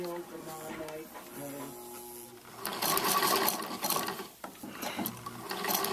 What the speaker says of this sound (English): you're going to machine sew right onto that black line